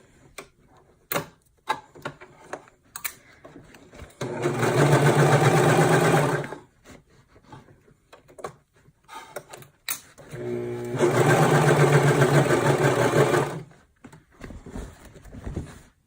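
A sewing machine stitches a seam on a fabric car trash bag in two bursts of rapid mechanical whirring, each about two seconds long, separated by quiet handling clicks and taps.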